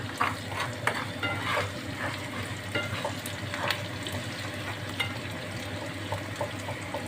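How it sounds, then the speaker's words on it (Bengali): Onions fry for khichuri in a hot pan, a steady close sizzle with crackle and the occasional scrape of stirring running throughout, with no talking over it. "আর সাথে পেঁয়াজটাকেও ফেরেস্তা করে নিতে হবে আমাদের"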